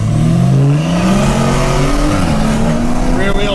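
A six-cylinder rear-wheel-drive car revs loudly from close by, its engine note climbing steadily and then holding high, with no one talking over it.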